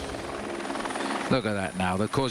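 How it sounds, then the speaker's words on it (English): Helicopter rotor chop hovering low over grapevines beside a Tour de France road stage, a steady whirring drone under a commentator's voice. "that's the helicopter blowing the grapevine."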